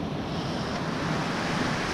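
Ocean waves wash steadily onto the rocky shore at Saltwick Bay as the tide goes out, a continuous broad surf roar with wind buffeting the microphone throughout.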